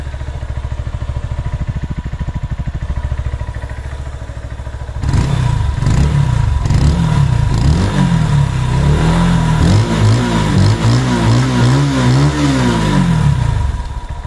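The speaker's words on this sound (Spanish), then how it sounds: "Sonido de escape." A motorcycle exhaust idles with a steady low burble, then revs hard and repeatedly, the engine pitch climbing and falling in loud, close bursts.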